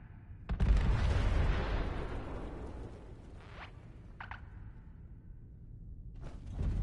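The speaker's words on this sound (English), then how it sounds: "I'm detonating the bombs" Bombs detonating underground in Fallout: Brotherhood of Steel, a heavy booming blast followed by a long rumbling decay, then a few sharp crackling bursts and a rising rumble near the end.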